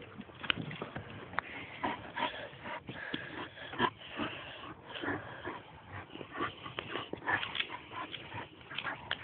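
A Staffordshire bull terrier whimpers, yips and snuffles outdoors, close by, in a busy stream of small vocal sounds and scuffling noise with no clear speech.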